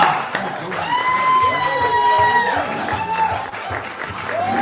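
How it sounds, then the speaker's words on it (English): An audience at a poetry slam applauds and cheers a poet, loud clapping and whoops filling the room while a voice calls out over it. "Applaud for that poet."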